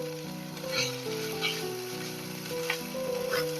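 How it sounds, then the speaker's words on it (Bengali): Onion fries in a pan for shrimp bharta, a soft steady sizzle with faint stirring under a tonal background, quiet and continuous. "এটা ভালো করে ভাজা হয়ে গেছে।"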